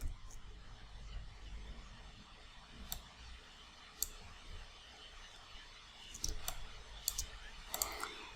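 A computer mouse clicks while Adobe Photoshop is being used, with sparse, quiet single and double clicks over a low room hiss. No voices.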